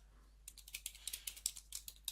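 Keystrokes on a computer keyboard while entering a terminal command: a fast, light, fairly even patter of soft clicks, faint and close, over a low steady hum, with no speech.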